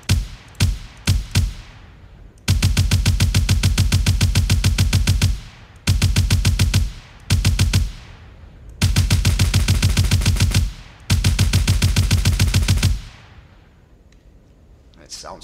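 Automatic gunfire from the Beam Carabine in the video game Zerahypt, loud rapid bursts of varying length, some short volleys and several long sustained strings, separated by brief pauses, with no voice over it.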